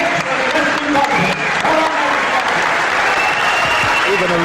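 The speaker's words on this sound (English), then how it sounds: "Even a referee applauding" Audience applauding and cheering in a hall after a wrestling match, a loud continuous roar of clapping and crowd noise with voices calling out over it.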